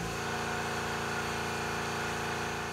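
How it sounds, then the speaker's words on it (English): An air compressor switched on by voice command runs with a steady motor drone and faint rhythmic pulsing throughout, alone and without talk. "Alexa, turn on the air compressor."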